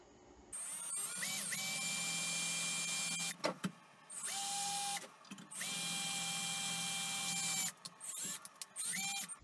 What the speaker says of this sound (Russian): И сейчас по центру просверлим отверстие.